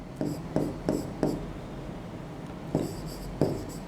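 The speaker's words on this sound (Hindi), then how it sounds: "हम यहां पर लिखते हैं" Chalk or marker strokes on a classroom board: short scratchy bursts in quick groups, several strokes, then a pause, then more, fairly close and clear, no talking.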